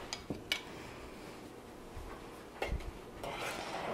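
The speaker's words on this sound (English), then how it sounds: "Now we're just gonna keep stirring." A spoon clinks against a pot while stirring a no-bake chocolate oatmeal cookie mixture with cocoa powder, a few sparse light taps and scrapes, faint and close.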